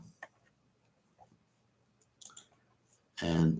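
Light clicks of a computer mouse while a custom embed code is entered into a web page, a few faint scattered ticks in a quiet room, followed by a sudden louder burst of noise at the end.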